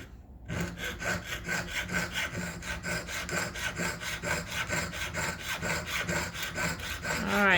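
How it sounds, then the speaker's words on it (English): A saw cuts a notch through work-hardened metal with steady, rhythmic back-and-forth strokes, close and fairly loud, each stroke rasping evenly and growing slightly louder toward the end. "I'm getting close to sawing through the bottom"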